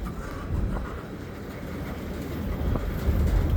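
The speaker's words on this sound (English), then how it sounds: "Quite a long train, actually. Usually the G95 is not that long." A long CPKC local freight train rumbles steadily past at Dorval on a windy February day, a broad low roar with faint rhythmic clatter, growing slightly louder toward the end amid wind noise.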